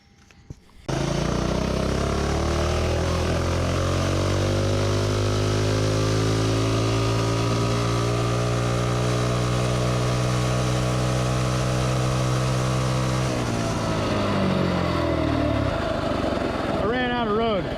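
A small mini bike engine with a modified carburetor revs up and holds a loud, buzzing high-rpm drone for many seconds, pitch climbing then easing off before it drops away.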